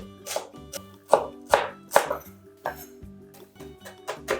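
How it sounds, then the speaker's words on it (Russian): A knife finely chops a small bunch of fresh dill, parsley or green onion on a board: a close, uneven run of sharp knocks with light clinks and no talk. "Небольшой пучок свежего укропа, петрушки или зеленого лука мелко нарезаю."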